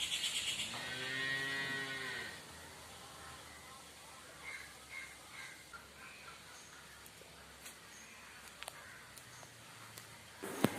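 A milch cow on a dairy farm holding 57 cows of various breeds gives one loud, drawn-out moo up close at the start, followed by quieter farmyard ambience with faint distant animal sounds.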